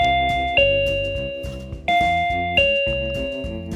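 A Transmeiot TM-SCC02 smart alarm kit's wireless doorbell chime rings three times in succession, each a bright two-tone ding-dong that rings out and fades before the next, loud and clear with no talking.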